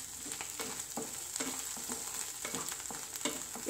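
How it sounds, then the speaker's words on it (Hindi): Potatoes roast and sizzle in a pan over a low to medium flame while sabudana khichdi is being made. The frying hiss is steady and close, broken by frequent light scraping and stirring clicks, with no talking. "देखिए आलू भी अच्छी तरह रोस्ट हो गए हैं।"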